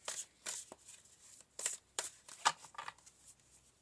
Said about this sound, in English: So let's pull a couple of more cards.